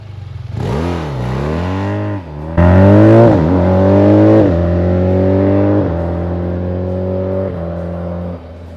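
A BMW R12nineT 1200cc motorcycle roars from 0 to 100 with traction control on, its loud engine climbing in pitch through several quick-shifter upshifts with sharp breaks between gears, close up and alone.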